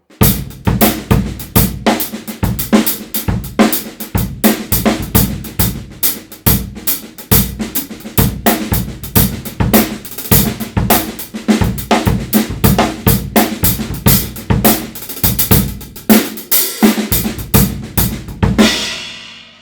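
A busy drum kit solo with rapid snare and tom hits and cymbal crashes over a steady pulse, dense and loud throughout, ending in a ringing cymbal.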